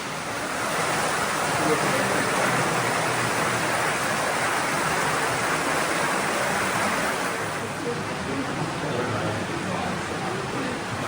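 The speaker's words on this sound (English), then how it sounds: "that water flowing over it always flows at the same rate all year round" A continuous rush of flowing water fills the space, steady and fairly loud throughout, like a stream running nearby.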